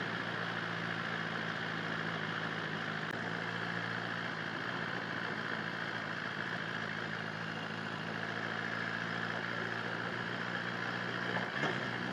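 Motorcycles idle while waiting for a ferry in northern Ontario, giving a steady, even engine hum throughout with no revving and a faint rattle near the end.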